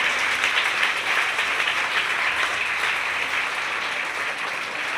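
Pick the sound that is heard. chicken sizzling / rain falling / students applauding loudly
students applauding loudly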